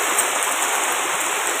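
Heavy rain pours down steadily, a dense even hiss with no breaks, moderately loud and close.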